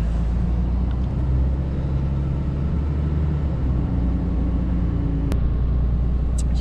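A car drives into town, its engine and road noise forming a steady, close, low rumble inside the cabin with a brief click partway through.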